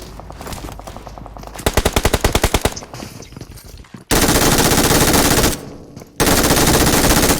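Gunfire in PUBG on the Erangel map, loud rapid automatic bursts: a rattling stutter of shots, then dense sustained fire in two long blasts separated by a brief pause.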